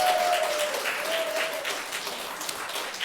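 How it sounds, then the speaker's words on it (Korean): A church congregation gives steady, dense applause of welcome during a Sunday worship service, the clapping filling the whole stretch evenly, with a faint tone heard briefly at the start. "우리 박수로 한번 환영하도록 하겠습니다"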